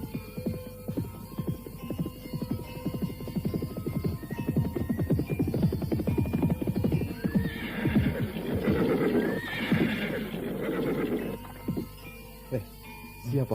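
A horse stopping before a roadside stall, steady clip-clop of hooves on hard ground followed by a loud, drawn-out whinny, all close by within an audio drama scene with voices and effects mixed in.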